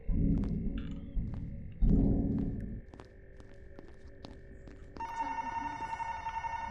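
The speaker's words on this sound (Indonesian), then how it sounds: "Mana suara telepon?" Ringing telephone in the horror game The Inn Sanity: steady electronic tones come in over a low throbbing ambience, swelling to a louder, brighter ring in the last couple of seconds, with no talk.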